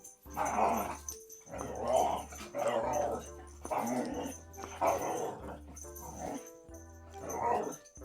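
Several dogs growl and bark in a noisy indoor squabble, with loud, repeated bursts of snarling and barking through the whole stretch and only brief pauses between outbursts.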